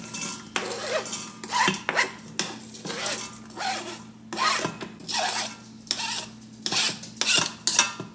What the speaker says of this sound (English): So I'm going to go ahead and just add my onions